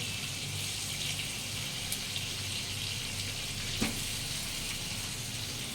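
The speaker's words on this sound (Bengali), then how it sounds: "রসুন পেঁয়াজটাকে একটু ভালো করে মোটামুটি একটু ভেজে নেব হালকা করে" Garlic and onion frying in a pan with cloves and cardamom while a chicken stew is being made, giving a steady, fairly loud sizzle with one brief stirring clink partway through.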